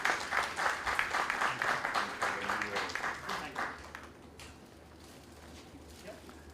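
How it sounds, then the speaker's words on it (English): An audience at an inter-bank quiz competition final applauds to welcome the quiz master, with dense, loud clapping that fades into a quieter room after a few seconds. "let's welcome the quiz master, Mr. Gautam Bose, with a round of applause"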